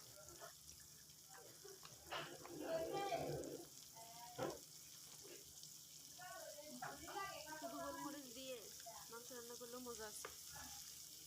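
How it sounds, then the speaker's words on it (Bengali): Vegetables fry on a low flame in a pan, giving a soft, continuous sizzle with occasional stirring scrapes, faint and close, while a person talks over much of it. "তারপরে এগুলো আমরা ভেজে নিচ্ছি।"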